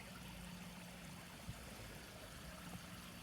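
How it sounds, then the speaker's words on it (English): Small river water flows steadily outdoors in a quiet, remote spot with no traffic, a soft continuous rush at moderate distance with a couple of faint knocks. "the only sound we hear out here right now is this water"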